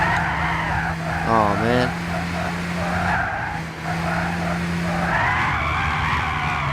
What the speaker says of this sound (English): Let's go into the cockpit and do some drifting.